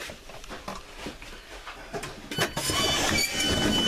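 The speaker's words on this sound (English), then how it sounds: "this is a mainline train, so I'd be diverted there." A mainline train passes through a South East London station, a low rumble growing into loud, steady wheel and rail noise with rhythmic clatter in the last second and a half.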